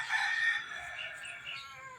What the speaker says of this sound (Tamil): இந்த பக்கம் கோழி கத்துற சத்தம்.